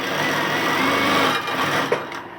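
Sewing machine stitching fabric for palazzo trousers, a steady fast mechanical whir held close and loud for about two seconds, then a brief knock as it slows and stops.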